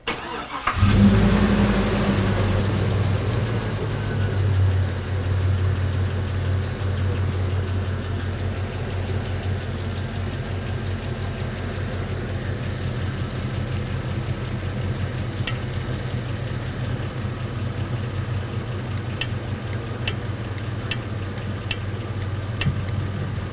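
A 2002 Chevrolet engine with a P0174 lean code cranks and catches, then settles into a steady, low idle that runs on evenly for a long stretch, close and fairly loud.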